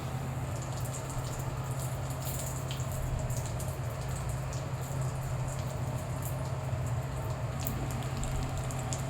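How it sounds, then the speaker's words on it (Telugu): Watermelon and pumpkin seeds frying in ghee make a steady, even crackle and patter of small pops, close and continuous with no voices. "వీటికి అన్నిటినీ కొంచెం నెయ్యి వేసుకొని ఫ్రై చేసుకోవాలి"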